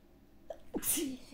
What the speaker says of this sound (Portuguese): parei para espirrar